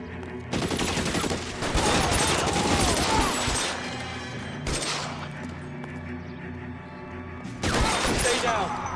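Gunfire in the game L.A. Noire: loud bursts of rapid shots in three waves separated by quieter gaps, with a voice talking over parts of it.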